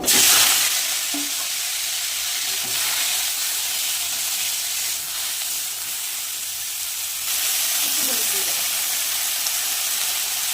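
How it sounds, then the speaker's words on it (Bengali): Cauliflower frying in white oil in a kadai gives a steady, loud, close sizzle and hiss that runs the whole time, with faint clinks of stirring underneath. "কড়াইতে দিয়ে দেবো সাদা তেল ফুলকপিটা একটু ভেজে নেব"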